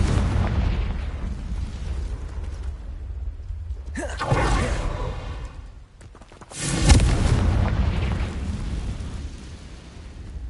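Two booming fire-spell explosions from the Hogwarts Legacy video game, each a sharp crackling burst that rolls into a long rumbling tail over continuous low battle noise.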